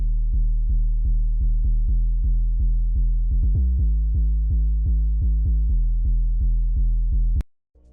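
Basic Serum sub bass with tube distortion and a filter, a deep rounded tone pulsing in a steady pattern of short repeated notes with a quick pitch-shifting fill midway, loud and alone before cutting off with a click.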